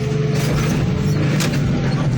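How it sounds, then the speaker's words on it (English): A car crusher flattens scrap cars, heavy low mechanical rumbling with metallic crunching and a steady hydraulic drone, loud and close, with a couple of sharp creaking bursts. "We're crushing cars"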